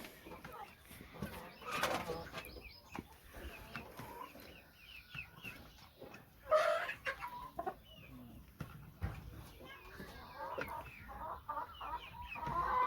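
Hens, week-old chicks and a rooster cluck and chirp in a farmyard coop, scattered calls rising and falling over about thirteen seconds with a louder burst midway, while a person talks intermittently nearby.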